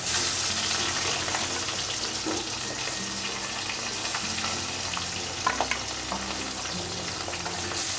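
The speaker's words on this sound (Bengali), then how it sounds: "তেলটা গরম হয়ে গেছে, মাছগুলোকে আমি সব ভেজে নেব" Parshe fish rubbed with salt and turmeric fry in hot oil. The sizzle is a dense, continuous crackle with a few sharper pops and faint stirring, and no voices.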